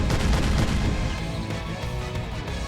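Gunshots in Hyperdimension Neptunia Rebirth 1, a dense run of booming shots and impacts blending into one continuous loud barrage with no pauses.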